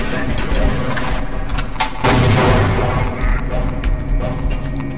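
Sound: grenade explosion and gunfire in video game Half-Life: Uplink

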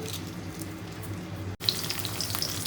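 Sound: sliced onions frying in oil

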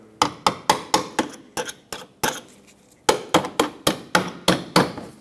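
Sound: hammer tapping punch through plastic rivet

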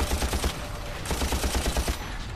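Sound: gunshots

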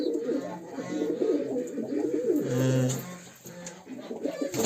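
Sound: tumbler pigeons cooing

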